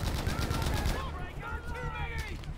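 Rapid machine gun fire in the game Battlefield 5, a fast burst of shots that cuts off after about a second, followed by someone talking over fainter background battle sounds.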